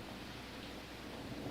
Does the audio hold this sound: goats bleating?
no